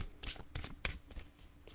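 A deck of tarot cards is shuffled by hand, with quick riffling bursts and soft slaps repeating at a brisk, uneven rhythm close by.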